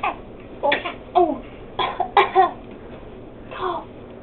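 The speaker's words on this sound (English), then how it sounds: "Cough." A young girl makes a series of short fake coughs, several bursts spaced irregularly and close to the mic, with no other talk.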